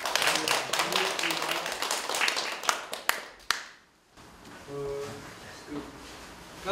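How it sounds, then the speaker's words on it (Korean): An audience applauds at a family education lecture: dense, steady clapping for a few seconds, then a sharp trailing-off into quiet room sound with some voices afterward. "박수로 받으시기 바랍니다."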